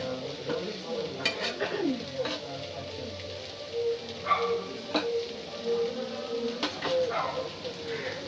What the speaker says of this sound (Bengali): সমস্ত উপকরণগুলো মিক্স করে নেব।